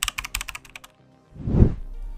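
A few quick key presses on a computer keyboard, Shift and Delete, click in a short cluster, followed by a louder soft thump or rustle near the end; no talking.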